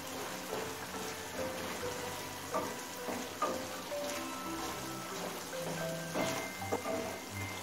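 Okra being stirred with a spoonful of mustard oil in a pan, giving a steady soft sizzle broken by a few scraping, clinking stirs, with no voices.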